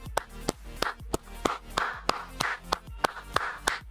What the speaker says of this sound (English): that's a real clap